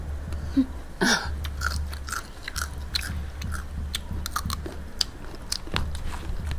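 Close-up biting and wet chewing of raw beef larb (koi) mixed with fresh blood, eaten with hot sticky rice; repeated crunchy bites and mouth sounds come in an irregular rhythm with no talk.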